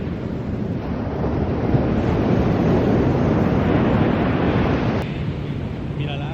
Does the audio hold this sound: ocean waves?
yes